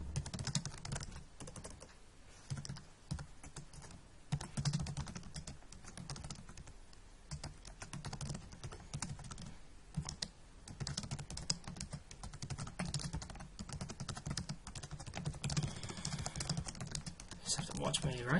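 Fingers type steadily on a computer keyboard, a dense continuous patter of soft key clicks running throughout, close but fairly quiet, with a voice speaking over it at times.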